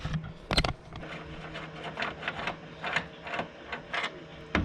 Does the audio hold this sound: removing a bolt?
yes